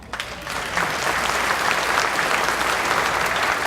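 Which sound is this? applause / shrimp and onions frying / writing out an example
applause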